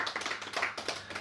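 Audience clapping at a talk, a short burst of scattered hand claps with an uneven rhythm, fairly close and with no voices over it.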